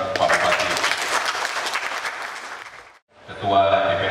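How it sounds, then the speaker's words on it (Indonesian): Applause from an audience at an official agricultural visit in Lamongan Regency, Indonesia, cheering the regent: loud dense clapping that fades out, briefly stops, then swells back strongly. "Tepuk tangan buat Pak Bupati."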